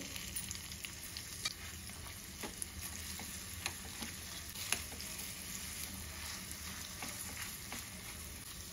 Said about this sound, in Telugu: దంచిన పచ్చడి వేసుకొని కలుపుకోవాలి